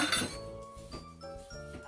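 Glass bottles clink together while being handled and cleaned for homemade cough syrup, a few bright close clinks with ringing tones in a quiet kitchen.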